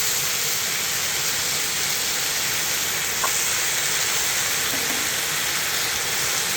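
Pork belly with eggplant, zucchini, potato and garlic sizzling on a cast-iron Anseong griddle outdoors, a dense, steady frying hiss that stays even and close throughout with no talking.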